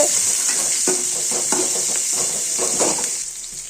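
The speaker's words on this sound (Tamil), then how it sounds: "வெங்காயம் போட்டு நல்லா வதக்கிக்கோங்க பொன்னிறமாக" Sliced onions sautéing in oil with spices in a pan for Tamil egg kulambu, making a steady, close sizzle broken by regular scraping strokes of a stirring spoon.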